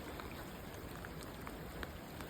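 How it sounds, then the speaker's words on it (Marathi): Steady rain falling around a moving bus on a cold mountain road in Manali after a landslide, a dense even hiss with occasional louder drops. "चालू बसमध्ये पाऊस पण पडतोय भिजतोय मी"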